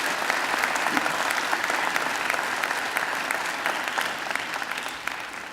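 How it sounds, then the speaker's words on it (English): A large graduation audience at Macquarie claps in a dense, sustained round of applause, steady and loud throughout with no break. "Also deserving of a big round of applause are our musicians"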